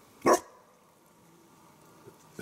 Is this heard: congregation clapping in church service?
no